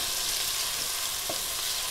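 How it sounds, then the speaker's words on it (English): Onions and garlic sauté in a pan for lamb ragu, giving a soft, steady sizzle and hiss with a faint scrape or stir near the middle and no voices over it. "So onions are cooking down."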